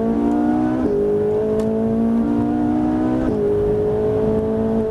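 A Ferrari 458 Italia engine revs up with rising pitch, drops briefly at a gear change, then climbs again, loud and close, no talking.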